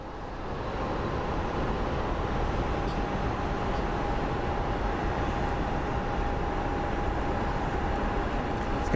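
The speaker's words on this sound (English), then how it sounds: "let's go take a look at our next departing flight, which will be a United" United Boeing 737 airliner departing at Sky Harbor airport, a broad, steady jet roar that swells in over the first second and holds loud and constant, with a faint thin whine running through it.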